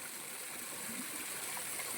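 Running water from a mountain spring at a farm resort, a steady close rushing and trickling flow that continues unbroken throughout with no voices.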